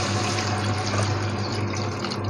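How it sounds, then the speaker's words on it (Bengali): Water is poured into a pot of beef curry, making a continuous close splash and gush that runs steadily for a couple of seconds with a low hum underneath. No one speaks. "এবার আমি রান্নার পানি দিয়ে দেব।"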